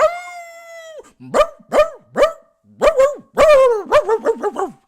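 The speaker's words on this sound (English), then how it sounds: "If you jacking off and barking like a dog, boy, that crazy" A sustained dog howl, then a run of sharp barks and yips that quickens toward the end, loud and close.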